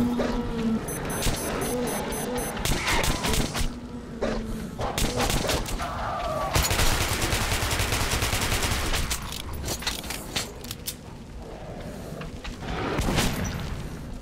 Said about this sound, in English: Oh, one shot. The first shot itself killed him.